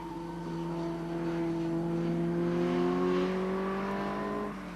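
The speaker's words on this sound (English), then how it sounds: "57 is the John Jeffrey John Broadley Davrian Mark 8" Davrian Mark 8 race car in a classic sports car club race at Anglesey circuit, its engine note rising steadily as it accelerates past at moderate distance, a sustained droning whine over several seconds.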